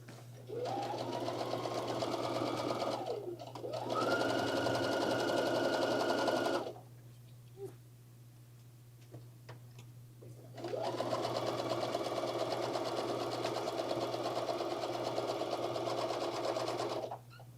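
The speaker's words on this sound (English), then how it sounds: "I love that you mentioned the simple sewing machine" A sewing machine runs in two long steady bursts of rapid stitching, whirring up and down in pitch, separated by a quiet pause with faint clicks.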